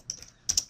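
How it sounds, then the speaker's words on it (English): Two short bursts of keystrokes on a computer keyboard, close and clear, a few quick clicks each, typing a note into mind-mapping software. "I can actually type in my first note"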